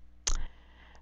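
A single sharp click of the Return key being pressed on a keyboard, close and brief, followed by a fainter tick.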